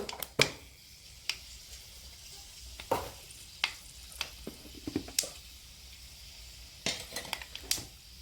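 Onions and fenugreek seeds frying in hot oil in a pan for okra rasam, heard as a low sizzle under sharp metallic clanks and scrapes from stirring, close and irregular, with no voices.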